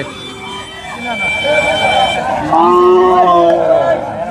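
A large cow lets out a long, loud moo close by, amid the murmur of the busy outdoor Gabtali cattle market with voices around.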